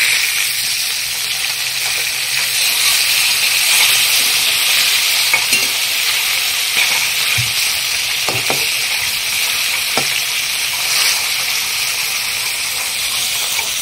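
Pieces of rohu fish fry in a pan with a loud, constant sizzle, while occasional scrapes and knocks of stirring or turning come through close by, and no one speaks.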